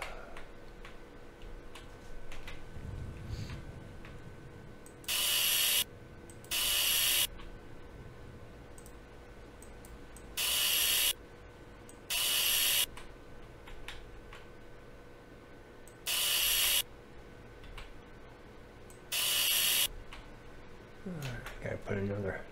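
A wrench ratchets in the modded car-repair video game My Garage. Loud hissing bursts come in spaced pairs over a steady low game hum, with some background talk.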